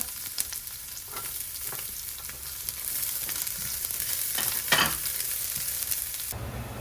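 Chopped garlic frying in hot oil for a pork menudo, giving a continuous close hiss and crackle with occasional stirring scrapes, and no talking over it.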